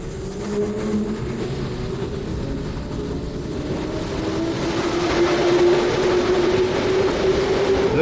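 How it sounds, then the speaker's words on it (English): A Moscow metro train rumbles steadily with a rising whine building over the last few seconds, a continuous rail drone with no voices. "the impressive Moscow metro."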